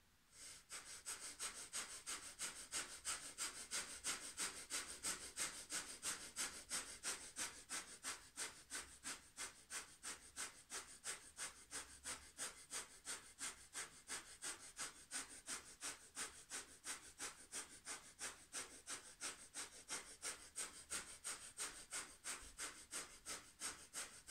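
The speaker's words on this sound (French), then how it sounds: "vous pratiquez la respiration du feu dans la posture centrée au troisième œil" Kundalini yoga breath of fire in a seated pose with palms pressed together: rapid rhythmic nasal breathing at a fast, even pace of about three breaths per second, close and sustained for over twenty seconds.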